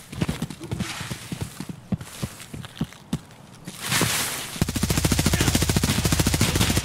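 Sniper scav firing in Escape from Tarkov: a string of separate sharp gunshot cracks with gaps between them, then a denser, rapid burst of fire that builds into steady, loud repetition toward the end.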